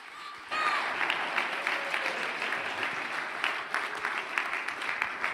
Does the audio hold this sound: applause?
yes